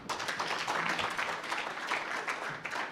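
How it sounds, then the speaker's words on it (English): An audience at a Ministry of Labour and Social Protection event applauding, dense steady clapping from many hands filling the room for a few seconds. "Another round of applause, please."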